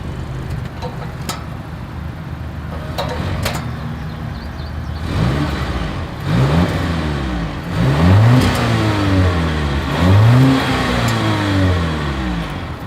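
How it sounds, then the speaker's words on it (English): A 2022 Volvo S90 exhaust idles with a low rumble, then revs sharply several times, each rise and fall loud and close. "As always, here is that exhaust clip."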